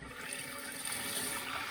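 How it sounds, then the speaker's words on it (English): Water flowing into a toilet after its supply valve under the tank is turned on, a steady hissing rush close by, continuous and fairly quiet with no talking. "Now I'll just go under the toilet and turn the water on."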